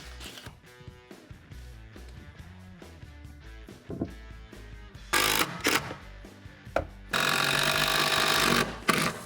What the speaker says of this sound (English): We're going to start out with a circular saw, cut most of the way through